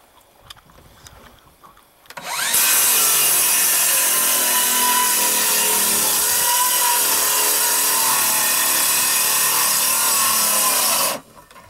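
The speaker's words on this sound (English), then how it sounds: "remove the lower section of plywood" Plywood sheet being pried and pulled off the lower part of a wall in a modular home under inspection, a loud continuous scraping, rubbing rasp that begins abruptly after a quiet moment and holds steady for about nine seconds before stopping.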